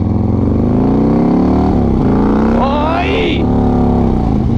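A motorcycle with a 120R Twin Cam engine pulls hard under throttle, its loud, close engine note climbing in pitch through a shift, with a brief voice mixed in.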